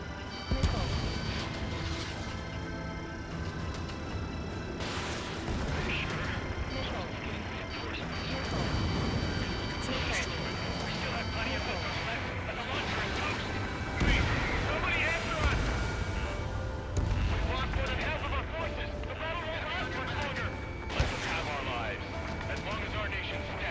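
Missile launches and explosions from aerial combat in the flight game Ace Combat 7, rumbling and crashing continuously beneath steady radio chatter and voices.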